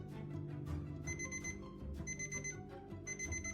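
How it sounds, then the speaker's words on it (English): An alarm clock rings in a repeating pattern of beeps, faint and somewhat muffled beneath a low background hum. "The next morning, Steve's alarm went off at 7 a.m"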